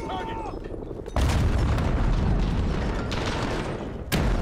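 Grenade exploding in the Modern Warfare video game: an abrupt, loud blast that becomes a sustained roaring rumble, with another sharp burst near the end.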